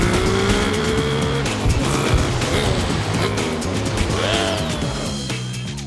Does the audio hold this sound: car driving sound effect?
yes